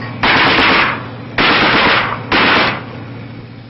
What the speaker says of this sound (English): the convoy comes under sniper fire. This is answered immediately